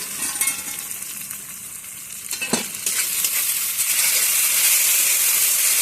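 Spice paste and tomato frying and being stirred in a pan, a steady close sizzle that grows louder and hissier toward the end, with a brief metallic clink from the stirring and no speech.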